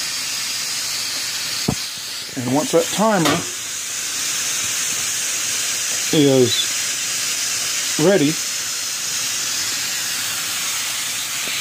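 Steam hissing steadily from the four vent holes of a pressure canner during pork loin canning, a constant close hiss under intermittent talk.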